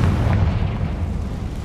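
A Confringo fire spell explodes in Hogwarts Legacy as a deep, loud, rumbling boom with a dense roar that fills the whole moment, heard alone without voices.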